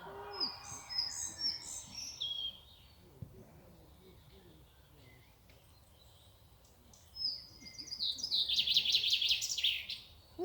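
A small bird sings in high, rapid trilling phrases outdoors in a town, loud at the start, then a quiet gap before another bright burst of song near the end.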